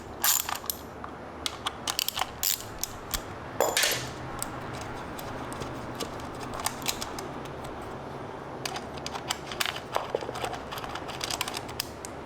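Sparse metallic clicks and clinks from a ratchet breaking bolts loose on an Aprilia RSV4 motorcycle, scattered in short irregular bursts at close range with quiet gaps between.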